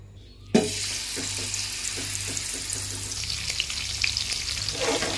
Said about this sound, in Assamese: ঢাকনি মাৰি মাৰি ভাজি আছোঁ